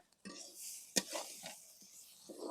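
Spice paste with bay leaf, green chilli and salt fries in a pan for a chicken curry, a soft sizzle with spoon scrapes and a sharp clank, fairly quiet and close.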